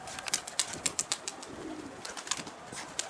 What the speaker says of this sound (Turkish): Ya bak uçmayan kuşlar uçuyor.